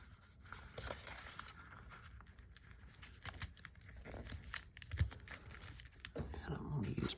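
Paper is folded and creased by hand, giving soft crinkling, rustling and brief tearing-like scrapes in irregular bursts, close and quiet, with speech intermittently present.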